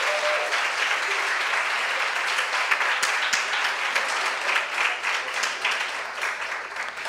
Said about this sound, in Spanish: vamos a darle un aplauso a todos los compañeros que lo han enviado.